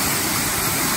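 A roughly twenty-foot waterfall pours out of a beaver pond with a loud, steady, broadband rush that stays even and close with no other sounds.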